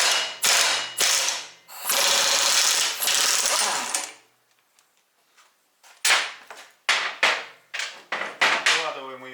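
Ratchet wrench loosening a nut on the final drive of a BMW R1200GS motorcycle, heard as bursts of rapid clicking near the mic, a pause of near silence, then several shorter ratcheting spurts.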